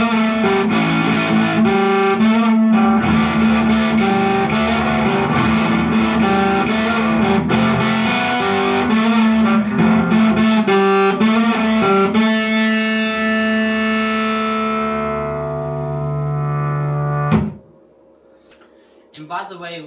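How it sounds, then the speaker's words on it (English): Acoustic guitar run through heavy distortion plays a riff, loud, thick and sustained, ending in a long decaying chord that cuts off sharply, followed by faint handling noise. "In our distortion on acoustic"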